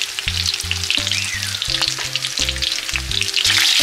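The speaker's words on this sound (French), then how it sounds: "Une fois que tous vos poissons ils ont été pris dans la panure, vous pouvez les faire frire." Breaded fish fries in hot oil with a loud, steady sizzle and crackle, close up, while a humming tonal pattern runs underneath.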